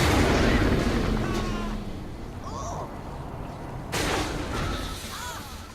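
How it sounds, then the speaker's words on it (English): The Black Hole Launcher firing in Saints Row IV, with a heavy booming launch followed by swirling whooshes and a second surge of blasts, set within layered game effects. "Another one of our fun new weapons that we're introducing is the Black Hole Launcher."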